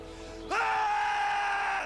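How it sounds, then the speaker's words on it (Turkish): A person lets out a sustained, loud scream in a tense scene, starting abruptly after a quiet moment and holding steady for over a second before breaking off. "ona çığlık ile karşılık veriyor"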